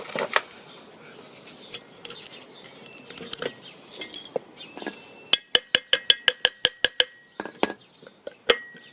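Small steel needle rollers dropping out of a staked universal joint on a Ford Escort, giving sparse metallic ticks and then a rapid run of bright clinks as they fall onto a hard surface, close by.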